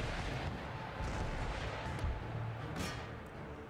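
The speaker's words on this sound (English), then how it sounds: "Make sure we spread my artillery fire about." Distant artillery fire booms in the Empire: Total War strategy game, a low continuous rumble of cannon under broadband battlefield noise with a few soft thuds and no clear individual shots.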